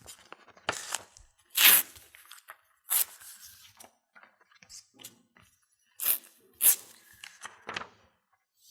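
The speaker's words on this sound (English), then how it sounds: "this is the piece we want to tear out." Half of a paper packet is torn out: close, crisp rips and crinkles of paper come in several short bursts, separated by quiet pauses and light handling rustles.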